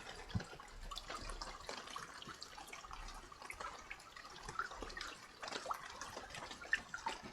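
Steady rain in the survival game Escape the Pacific, a dense wash of patter and drips, fairly quiet and continuous with small irregular splashes.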